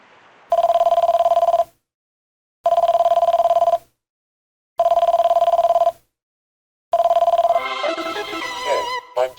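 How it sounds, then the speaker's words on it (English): A telephone rings in a Wii U video game, four loud electronic bell bursts of about a second each separated by silent gaps, the last cut short and giving way to a jumbled musical flourish. "I didn't expect the phone to ring."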